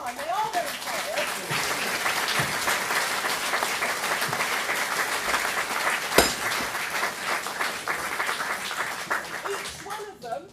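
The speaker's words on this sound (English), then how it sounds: "I'd like you to give them all a big round of applause for all the time." Audience applause for political candidates at a UKIP South East Region leadership hustings, a sustained round of clapping filling the room for about ten seconds, with a few voices briefly audible near the end.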